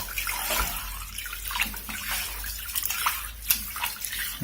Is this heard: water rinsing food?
yes